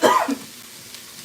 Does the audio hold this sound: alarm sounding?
no